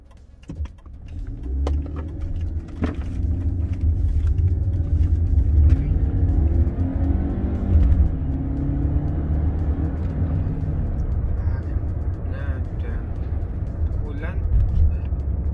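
A 2006 Mercedes-Benz car drives with a steady low engine and road rumble throughout, moderately loud, while someone talks over it.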